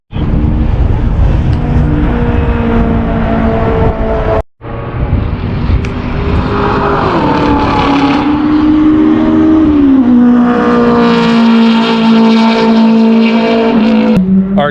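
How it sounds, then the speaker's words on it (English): A 2016 Corvette C7 Z06 and a 2017 Shelby GT350R racing at full speed at Pocono Raceway, loud engines roaring past and rising and falling through gear changes, a continuous close wall of motor noise. "So now we're actually going to see them go around at full speed."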